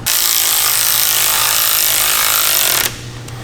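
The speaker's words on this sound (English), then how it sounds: "What would I do without power tools?" A power tool screams at high speed, loud and steady, then abruptly stops and leaves a quieter hum behind.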